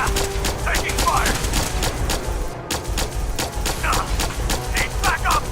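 Dense gunfire in the video game Fallout 4, rapid overlapping shots and bursts filling the scene continuously, loud and close, with a brief gap midway.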